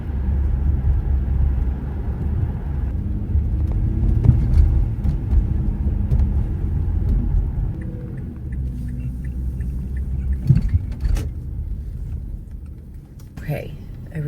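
A car drives to a school on a gray day, giving a steady low road rumble from inside the cabin, with faint scattered clicks and a brief clatter near the end.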